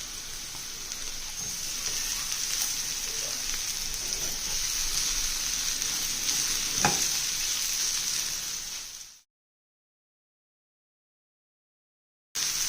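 Capsicum and carrots stir-fry in a hot pan with a steady, close, dense sizzle and one brief stirring knock midway; the sizzle stops abruptly into silence, and frying resumes at the very end.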